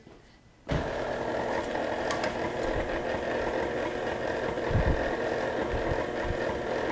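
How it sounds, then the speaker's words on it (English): An electric stand mixer running steadily as it mixes cookie dough for oatmeal raisin walnut cookies, a continuous mid-level motor whir starting abruptly after a brief quiet moment and holding for several seconds. "let's take it to the mixer"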